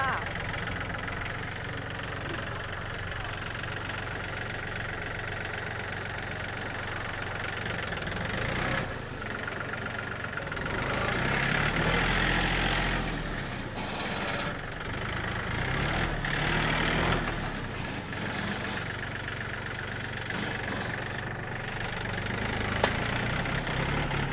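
A used Yanmar 39 hp farm tractor's engine runs steadily throughout with a continuous low idling drone and some knock, rising briefly in loudness midway, while someone talks over it.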